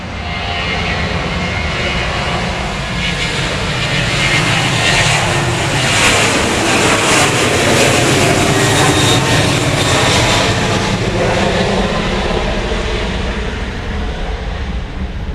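A Delta jet airliner takes off from Grand Cayman bound for Atlanta, its engines roaring loud and building to a peak mid-clip before easing slightly as it climbs away; no talking.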